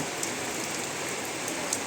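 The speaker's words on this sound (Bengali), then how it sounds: "আজকে হারাদিনই বৃষ্টি" Steady rain falls all day over a village, a dense even hiss of drops with occasional brighter taps on a nearby surface, with no voices.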